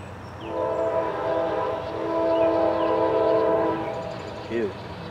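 GE Dash 9 diesel locomotive passing by with a steady, loud horn-like tonal drone over rumbling rail noise for several seconds, then fading, with brief radio-style talk in the background.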